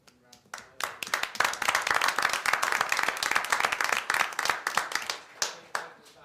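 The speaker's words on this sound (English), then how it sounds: "Give him a round of applause." An audience at a town council reorganization meeting claps, starting with scattered hand claps that swell into steady, moderately close applause before tapering off.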